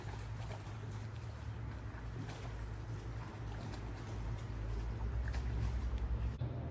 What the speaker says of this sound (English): you can hear the wakes from the boats down there in the water, slapping up against the bank